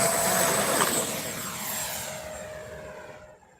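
An RC model airplane in flight over Magnolia Motor Speedway, its engine and propeller giving a steady buzzing whine that slowly fades as the plane draws away into the distance.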